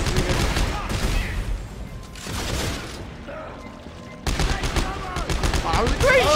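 Gunfire rings out in the sci-fi horror shooter Dead Space 3 during co-op play, with loud, dense bursts of rapid shots and booms filling most of the stretch, broken by one brief lull before firing resumes heavily.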